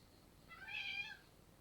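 A pet cat named Yoshie gives a single drawn-out meow, fairly close and moderately loud, rising and falling over about half a second against a quiet room.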